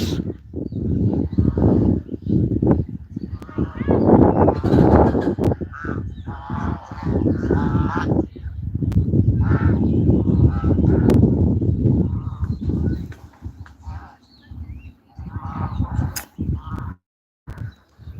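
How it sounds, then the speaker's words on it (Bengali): Geese honk loudly and repeatedly close by, a continuous clamor of harsh calls from several birds with brief pauses toward the end. "এই যে দেখেন রাজা হাঁস"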